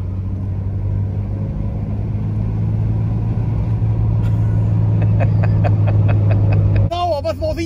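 A Renault car pulls in fifth gear at about 2500 rpm, a loud, steady engine drone with a firm low hum in the cabin, and someone talks over it toward the end.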